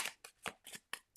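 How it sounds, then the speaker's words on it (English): Small tarot cards being shuffled by hand, a quick series of about six soft papery riffles and slaps at an irregular rhythm, close and quiet, with no talk. "I'm going to shuffle the little cards for you."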